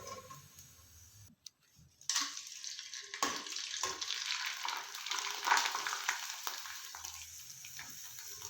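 Sabudana and potato fryums deep-frying in hot oil over a medium flame: after a brief quiet start, a loud, steady crackling sizzle with scattered pops runs throughout, with no talking.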